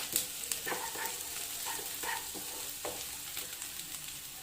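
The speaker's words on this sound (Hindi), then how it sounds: "1 टीस्पून जिंजर गार्लिक पेस्ट डाल लेंगे और इसे भी अच्छे से सॉटे कर लेंगे ऑनियन में" Ginger garlic paste sautéing with onion in a pan for Hyderabadi minced mutton samosas, a steady soft sizzle with light scraping stirs throughout, close and moderately quiet, with no talk.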